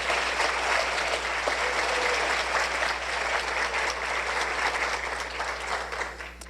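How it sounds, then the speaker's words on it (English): An audience breaks into sustained, loud applause to honor Scarlett Carpenter at a Tullahoma community recognition, a thick, even roar of clapping holding steady throughout. "Please join me in applauding Scarlett for everything that she does for Tullahoma"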